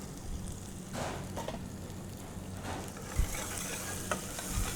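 Garlic and ginger pieces fry in hot oil and ghee with lentils, mustard seeds, cumin and curry leaves for a foxtail millet upma tempering, making a close, steady crackle broken by occasional sharper pops and stirring scrapes.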